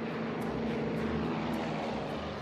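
A Beechcraft 1900 commuter turboprop taking off from Charlotte, North Carolina, as a steady, broad engine and propeller roar that stays loud and unbroken throughout, with no voices over it.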